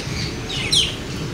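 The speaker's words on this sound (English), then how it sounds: "Lots of birds here." Birds chirp at Disney's Animal Kingdom, a single brief high call standing out over steady outdoor ambience with low background rumble.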